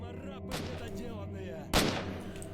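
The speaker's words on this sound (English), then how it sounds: "I love when the bullets go where you're shooting" Gunfire in STALKER: Shadow of Chernobyl, two sharp shots about a second apart, the second louder and nearer, over a low humming game backdrop.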